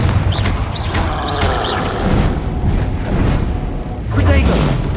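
Fire spell explosions from Hogwarts Legacy, a few short booming bursts in the middle and near the end, layered over continuous game sound and voices.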